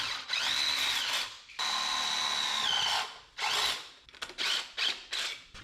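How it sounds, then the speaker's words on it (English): Power drill boring holes in the metal body of a 1963 International Harvester Loadstar truck, two long whining runs followed by several short stuttering bursts, close and loud. "I just wanted to drill 2 holes at least where we can get up in there and spot weld that to the lip"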